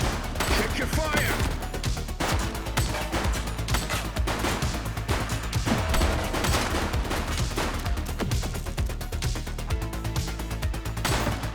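Gunfire in the police video game The Precinct: dense, rapid bursts of automatic shots crackle loud and near in quick irregular volleys, with occasional shouted voices mixed in.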